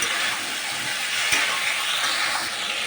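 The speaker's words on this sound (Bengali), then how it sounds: "বেগুনগুলো দিয়ে আর একটু কষাবো" Brinjal pieces with spices frying and being stirred in a pan for a vegetarian curry with lentil bori, giving a continuous close sizzle with a sharp scrape of the spatula midway.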